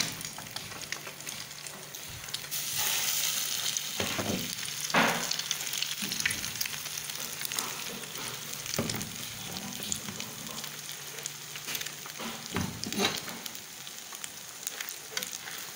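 Egg-dipped bread slices frying on low heat in a pan, an even soft sizzle with occasional clatters and scrapes as pieces are moved and turned.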